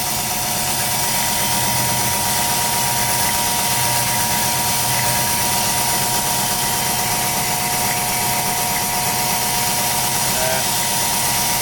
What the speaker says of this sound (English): This is the first real production grinder I ever bought